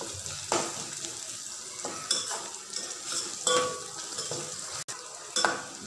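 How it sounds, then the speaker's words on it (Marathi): Mustard seeds, cumin and turmeric frying in oil in a pan, with a crackling sizzle and several sharp spatula knocks and scrapes against the metal, close and uneven. "आता हे जिरं मोहरी छान तेलात तळून घ्यायचं हळद"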